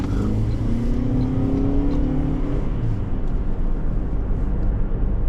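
A 2023 Toyota Prius Prime XSE hybrid being driven, giving a steady, loud interior drone of road and drivetrain noise with a faint rising engine tone early on, heard alone.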